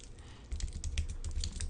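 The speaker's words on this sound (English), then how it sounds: "So I'm typing in password." A password is typed on a computer keyboard in a steady run of quick, close keystrokes with no talking.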